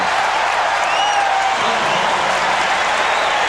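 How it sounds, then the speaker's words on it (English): Arena crowd noise at an NBA basketball game in 1996, a steady loud roar of cheering and applause reacting to a blocked shot by Harper, with no clear break in the wash of sound. "And the crowd reacting to the block of Harper."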